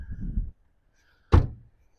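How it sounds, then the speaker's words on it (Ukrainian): A 2009 Volkswagen Golf 6 car door shuts with a single solid thunk after a brief mechanical rumble and a short pause, close and clear with no talk. "я люблю звук дверей, коли він правильно закривається"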